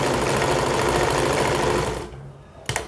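A sewing machine double-stitching a suit belt whirs in a fast, even, close rattle for about two seconds, then winds down and stops, followed by a short click or knock.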